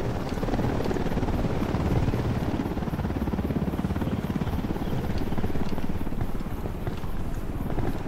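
A helicopter in the video game Ghost Recon Wildlands, a loud continuous rotor chop with a rhythmic thumping pulse and engine drone, steady and close for the whole stretch.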